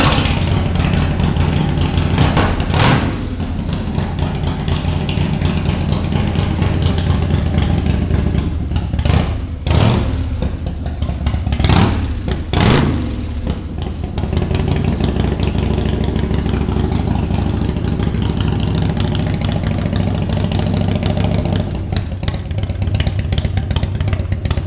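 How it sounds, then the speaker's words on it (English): A Harley-Davidson motorcycle with a performance engine and aggressive cam idles close by, its loud uneven lope rumbling continuously with a few sharper throttle blips along the way. "With the performance motor in this bike, you'll be able to hear this bike lope quite heavily."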